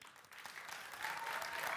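A summit audience gives a quiet, distant-sounding round of applause for six competing teams, a continuous crowd clapping that swells slightly toward the end.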